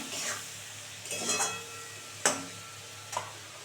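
Masala of onion, tomato and green chilli being stir-fried in a pan for a shol fish dish: a few sparse spatula scrapes and knocks over a faint, low sizzle, with no talking.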